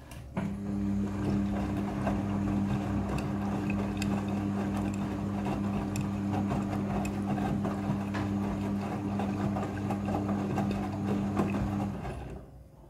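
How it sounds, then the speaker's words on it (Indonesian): Washing machine in its second water rinse cycle, a steady low motor hum with a constant tone and faint sloshing water, unbroken for about twelve seconds before stopping. "Setelah proses pemerasan selesai, masuk ke proses pembilasan air yang kedua."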